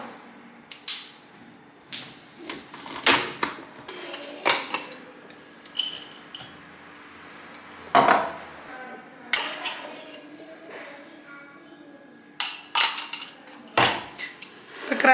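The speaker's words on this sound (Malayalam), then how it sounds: "ഇനി ഇതൊന്ന് ക്രഷ് ചെയ്തെടുക്കാം" Spices for Kerala-style rasam being crushed in a kitchen, a series of sharp, irregular knocks and clinks spaced a second or two apart, fairly close and alone.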